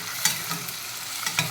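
Peanuts stirred in a hot frying pan for khichdi, with a soft sizzle under a few scraping stir strokes; no one speaks.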